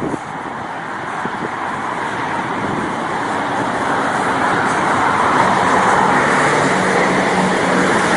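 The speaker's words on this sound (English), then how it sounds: "There is so much more traffic when it's daylight." Steady, loud daytime road traffic by an interstate, a continuous broadband roar of passing cars and trucks that swells slightly toward the end, with no voices.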